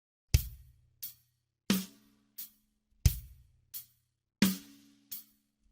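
A drum kit plays a slow rock beat, deep kick hits alternating with sharp snare cracks in a steady, unhurried groove, close and clear.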